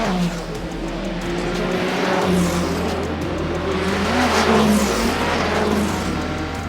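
Porsche race cars lap the Imola circuit during qualifying, a loud, sustained engine drone with shifting pitch as they pass, and occasional tyre noise in the mix.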